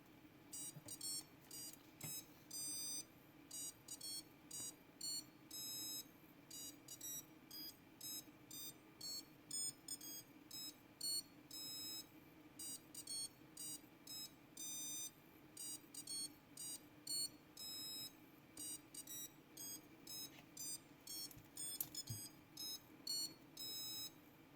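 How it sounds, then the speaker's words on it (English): A Lorus Mickey Mouse musical wristwatch plays Happy Birthday to You as a quiet, tinny series of electronic beeps in a steady melodic rhythm, heard alone and up close. "it has Happy Birthday to You on the dial, so that will also be the song that it is played"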